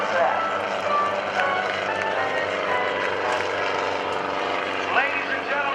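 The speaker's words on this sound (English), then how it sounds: "give it up for Otto the Helicopter" Otto the Helicopter performs at the 2012 NAS Oceana Airshow, a loud, steady rotor and engine drone with a low pulsing throb holding throughout, close and unbroken, with a voice faintly over it.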